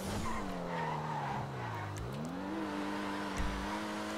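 A Jester race car in GTA drives around the Sonoma Raceway, its engine note rising and falling steadily as it works through gears, with tire squeal and skidding hiss throughout.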